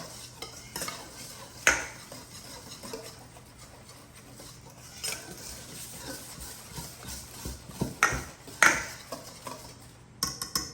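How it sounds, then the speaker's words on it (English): A whisk works through dry biscuit ingredients in a large bowl, giving light rhythmic scraping and clinking of metal against the bowl, with a few sharper taps, close and fairly quiet. "I'm gonna go ahead and just whisk those together."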